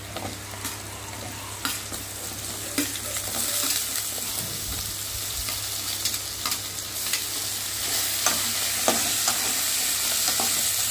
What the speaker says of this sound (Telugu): ఇంకా ఆనియన్స్ కూడా ఫ్రై అవుతా ఉన్నాయి కదా, బంగాళదుంపలు వేసుకున్నాం